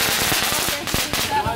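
Fireworks going off at a Fourth of July celebration, a dense rapid crackle of close, loud bursts like firecrackers, steady and continuous throughout.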